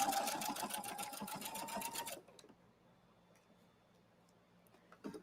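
A sewing machine stitches sequins onto a zero-waste skirt in a fast, even mechanical rattle for about two seconds before stopping abruptly, leaving quiet room tone and a faint click.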